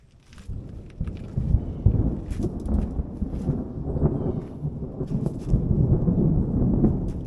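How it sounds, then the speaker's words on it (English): Deep rolling thunder rumbles continuously, swelling and fading with a storm's approach, with a soft rain-like hiss underneath and no voices. "hear that storm coming."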